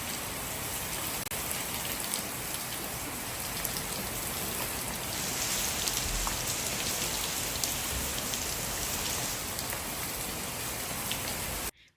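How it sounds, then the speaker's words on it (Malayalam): Heavy monsoon-style rain with big drops pouring down on Eid day, a dense, steady roar on surfaces that runs unbroken for about twelve seconds before cutting off abruptly. "ഭയങ്കര ഹെവി ആയിട്ടുള്ള വലിയ മഴത്തുള്ളിയുള്ള മഴ"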